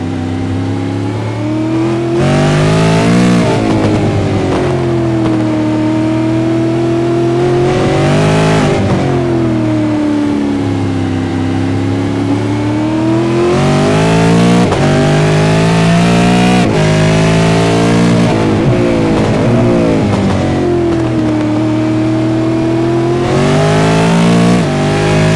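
A race car at full throttle on an onboard lap of Winton circuit, engine screaming loud and close, revs rising and dropping through repeated gear changes and braking zones.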